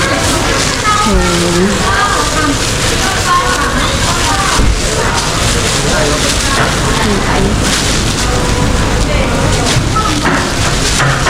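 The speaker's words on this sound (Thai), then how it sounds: "โอ้ยฝนตกพี่น้อง" Steady rain falls throughout, a dense, even wash of noise with people talking over it.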